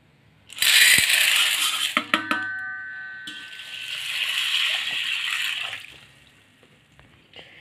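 Water poured over soaking vada lentils (250 g) in a kitchen, a splashing rush with clinks of a vessel, then a steady softer pour that tapers off.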